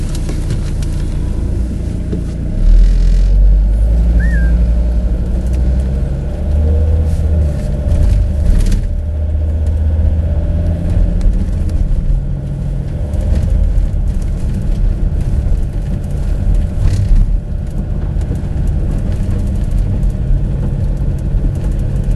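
A car is driven down a road to test tyre abnormality detection on the right rear wheel, which has a foreign object attached or is deformed. The cabin fills with a loud, continuous engine and road rumble that shifts slightly in pitch as it drives.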